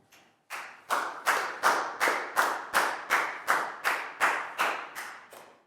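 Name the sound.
classroom clapping for a student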